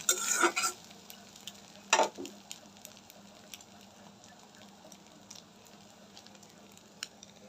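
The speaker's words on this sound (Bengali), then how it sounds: "ডিমটা ভাজা হয়ে গেছে ভালো ভাজা" Country chicken egg fries in a little oil, a quiet steady sizzle with two sharper bursts of crackling and stirring near the start, then a faint continuous hiss.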